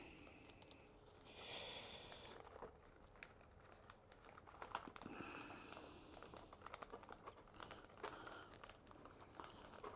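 Thin plastic bag crinkles and rustles softly around a small bonsai cutting pot, faint close crackles and scrunches continuing irregularly throughout.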